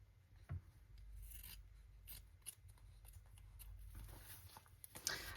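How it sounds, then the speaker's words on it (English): Scissors trim the corners off journal paper in a few quiet, close snips and rasps over a low steady room hum, with no talk. "I'm just gonna cut off some corners first."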